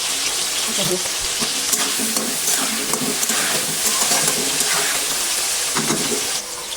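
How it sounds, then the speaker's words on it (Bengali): Meat is stirred in a hot pan after salt goes in, with a constant sizzle and repeated scraping strokes of a spoon across the pan, heard close up without talk. "একটু লবণ দেবো দিয়ে একটু নাড়া দিয়ে এটাকে ভালো করে একটু মিশিয়ে নিই"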